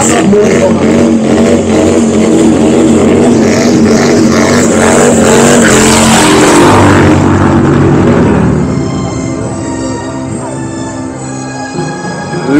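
A motorcycle does a loud, close burnout at the Bike Days Willingen rally, the engine held at a sustained roar with tire screech, then easing off toward the end.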